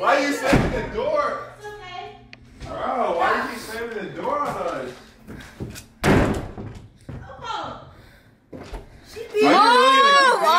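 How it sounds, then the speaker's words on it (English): Several sharp door slams and thuds in a house, loud and abrupt, breaking up heated overlapping argument between several people, including a voice. "why did you slam the door on us?"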